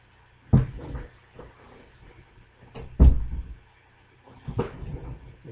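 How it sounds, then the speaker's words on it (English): A cat opens a door indoors, giving three separate knocking thumps and creaks spaced a few seconds apart, fairly close, with no voices. "The cat came in and opened the door."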